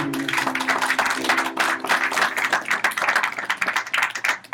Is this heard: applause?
yes